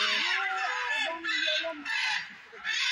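Blue and yellow macaws at the Alipur Zoo in Kolkata screech in loud, harsh bursts that rise and fall across the clip, with a brief lull between calls.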